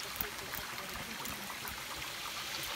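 Small waterfalls trickle beside a hiking trail, a steady, soft wash of running water that stays even throughout, with faint bits of movement and no clear speech.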